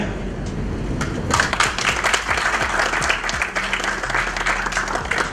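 An audience claps together in a sustained, dense round of applause, fairly close and loud, holding steady across the whole stretch with a few sharper individual claps standing out.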